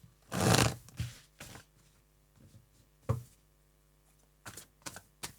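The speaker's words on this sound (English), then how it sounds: "Let's just do one more shuffle." Tarot cards are shuffled by hand in short, irregular bursts of papery rustling and slapping, with a few quiet gaps between the soft handling sounds.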